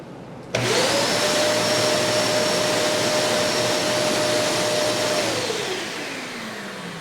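A shop dust collection machine near a wood lathe switches on abruptly into a loud, steady roaring whoosh with a whining tone, running close by, then its pitch drops as it winds down toward the end.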